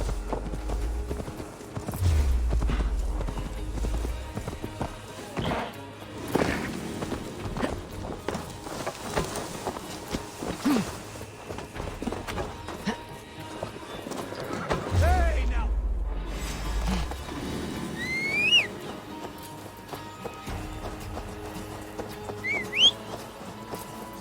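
Horse hooves clip-clop steadily through most of the stretch in Assassin's Creed Valhalla, mixed with other game sounds and voices, with heavier thumps around the start and midway.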